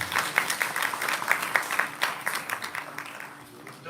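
Audience applause at a Jeevan Vidya conference gathering: steady, moderately loud clapping with a voice over part of it, tapering slightly toward the end.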